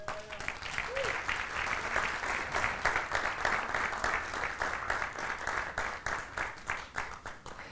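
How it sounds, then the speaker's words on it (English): An audience at a cider award ceremony gives rhythmic, moderately loud applause that pulses steadily throughout, with a voice briefly audible near the start. "Another round of applause, please"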